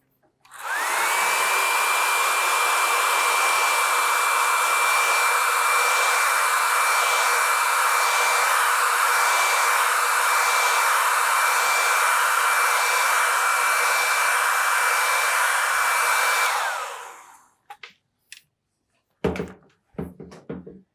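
A hair dryer blows steadily and loudly on a damp watercolour painting for about sixteen seconds, then cuts off, leaving a few faint knocks and handling sounds.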